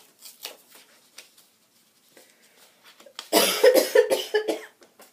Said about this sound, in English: Alright, I've woken up with a cough.